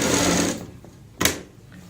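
A sewing machine runs in a steady whir while stitching piping onto a garment neckline, then stops. A single sharp clack follows, and a faint hum remains after it.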